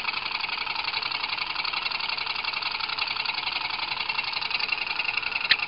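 Steady whine and hum of a PPO 100 simple electric motor running under test with its batteries warming, an even, continuous tone held close and unbroken throughout, no voices.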